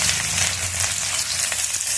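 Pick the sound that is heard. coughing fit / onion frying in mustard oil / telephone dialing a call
onion frying in mustard oil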